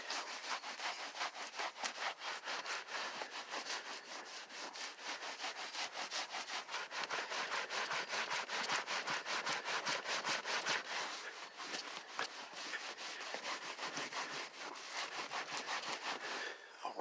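A dirty leather car seat scrubbed with Turtle Wax Luxe leather cleaner, giving a steady close-up rasp of rapid back-and-forth rubbing strokes that runs without a break and with no talk.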